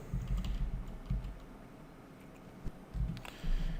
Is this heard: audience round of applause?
no